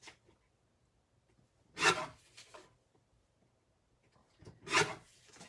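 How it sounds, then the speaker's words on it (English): Cardstock being trimmed down to size for a craft card project, two separate short rasping strokes of a paper trimmer or blade, close and fairly quiet, with near silence between them. "I'm going to trim that down just a little bit."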